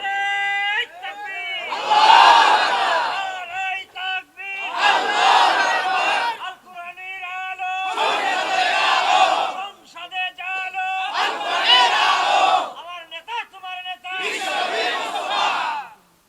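An audience at a Bangla Islamic sermon in Bogura shouts slogans together, five loud chanted bursts in a call-and-response rhythm, each answering a leading voice with short pauses between.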